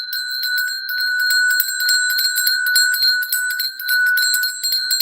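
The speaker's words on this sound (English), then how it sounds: "A bell." A bell rung during a spiritual trauma-healing ritual, ringing steadily with bright, sustained metallic tones and repeated strikes that overlap throughout, close and fairly loud with no talking.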